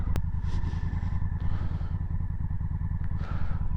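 A Honda Africa Twin motorcycle idles with a steady low engine rumble as it comes to a stop, with light clatter and scraping over the top and no talk.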